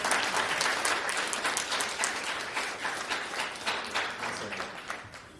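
Large audience at a keynote event applauding, loud continuous clapping that gradually thins and softens toward the end, with no voices on top.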